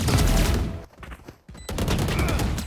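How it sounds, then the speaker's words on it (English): Rapid automatic fire from a Phantom rifle in the tactical shooter Valorant, loud sustained bursts with a brief pause before the shooting resumes. "I think I'm gonna use this gun a little more."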